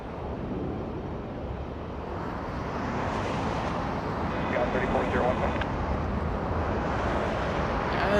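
A passenger jet comes in to land on runway 24 Right at Los Angeles International Airport, its broad engine roar swelling steadily and growing louder toward the end, mixed with wind buffeting on the microphone.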